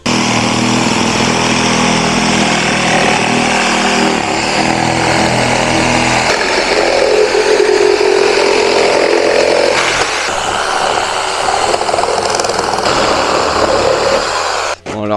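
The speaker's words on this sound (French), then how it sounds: "Il n'y a plus qu'à aller chercher la scie sabre." A reciprocating saw cuts through parts of a BMW Compact 320td during a 2.5i turbo engine swap. It makes a loud, continuous buzzing rasp that shifts in pitch and intensity, then cuts off abruptly at the end.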